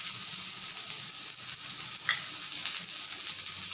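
Onions, dried red chillies, ginger, tamarind and garlic sautéing in a hot pan, a continuous close sizzle with faint stirring scrapes and no talking.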